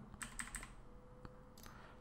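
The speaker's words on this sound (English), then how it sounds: "Let's use the arrow keys just to be a bit more precise" Computer keyboard arrow keys pressed a few times in quick succession, small soft clicks close by in a quiet room.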